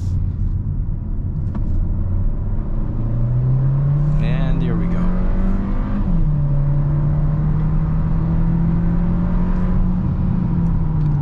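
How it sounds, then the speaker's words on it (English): A 2023 Hyundai Kona turbo in sport mode accelerating from inside the cabin, a steady engine drone rising in pitch, dipping briefly at a shift, then climbing again under constant road rumble. "Once the turbo kicked in, it did accelerate"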